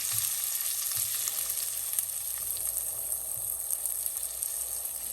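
Bean seeds fry lightly in a pan with a soft, even sizzle that runs steady throughout, with no talking.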